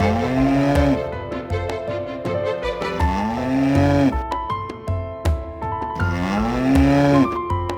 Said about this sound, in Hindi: मोहन और मयूरी भैंस के घरे के बाहर खोटा से बांध ले।